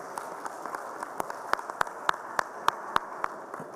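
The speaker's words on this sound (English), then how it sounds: "So please stand up and clap loudly." Conference audience clapping while standing, an even patter of many hands with several sharp, closer claps ringing out in a steady rhythm.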